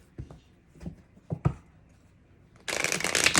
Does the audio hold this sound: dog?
no